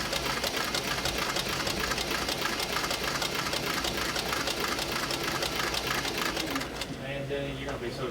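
A sewing machine runs steadily and loudly while stitching leather saddle skirts, its rapid needle strokes pulsing in an even rhythm for several seconds before winding down near the end.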